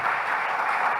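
A church congregation in Brazil gives a steady burst of applause, a dense, even wash of many hands clapping at once throughout.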